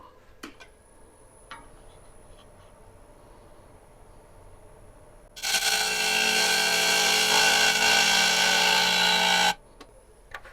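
A sharpened gouge thins the rim of a live-edge burl bowl spinning on a lathe, a loud, steady cutting roar lasting about four seconds in the middle, with quiet workshop ticks and taps before and after.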